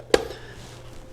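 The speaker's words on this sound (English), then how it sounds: "I'm going to go ahead and cut up these fries" A single sharp knife chop through a potato on a cutting board while preparing fries, one crisp close knock followed by quiet.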